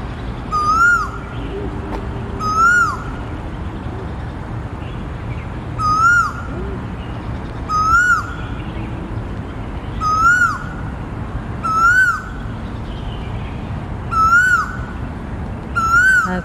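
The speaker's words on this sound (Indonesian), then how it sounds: "kayak burung hantu nang dukur" An owl hoots again and again in a quiet outdoor setting, each rising call repeating every couple of seconds, about eight in all, moderately loud over a low, steady background hum.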